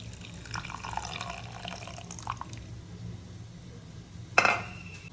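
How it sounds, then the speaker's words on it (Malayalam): Water pours and trickles into a sambar pot in a Kerala kitchen, a soft continuous flow with small clinks of the pot and one sharper knock near the end, with no one talking. "വെള്ളം ഒഴിക്കും."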